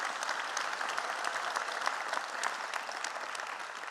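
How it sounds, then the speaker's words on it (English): An audience at a fire department recruit academy graduation ceremony breaks into sustained applause, a steady, even wash of many hands clapping at moderate loudness with no talk over it. "let's give them another round of applause"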